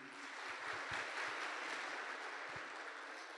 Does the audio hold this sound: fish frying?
no